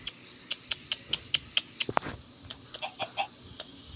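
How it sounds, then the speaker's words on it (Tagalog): Minecraft chickens make a rapid series of short clucking and clicking calls, fairly close and evenly paced, with a few sharper creaky squawks mixed in. "marami palang manok dun"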